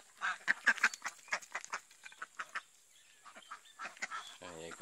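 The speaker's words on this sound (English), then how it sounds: "Look at that duck." A farm duck quacks in a quick run of nasal calls, close by, with geese nearby; the calls come in bursts, pause, then resume, ending with a brief low voiced sound.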